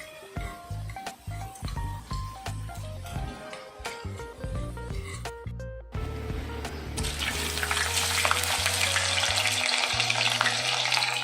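Bitter gourd sizzles and crackles in a hot pan, with clinks and stirring at first; the hiss swells louder and steadier over the last few seconds.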